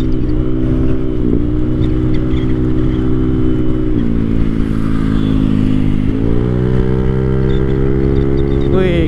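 A motorcycle that is running poorly rides fast on a road, its engine droning steadily and loud with wind roar and small shifts in pitch as it holds speed.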